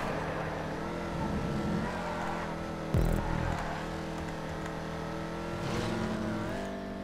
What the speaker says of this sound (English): I still think the Dominator GTX was built for this track.